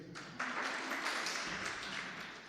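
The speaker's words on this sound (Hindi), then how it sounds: "ताली नहीं बजाई?" Audience applause during a Hindi religious discourse on the epic Mook Mati, a dense sustained wash of many hands clapping at moderate distance, filling the clip with no speech over it.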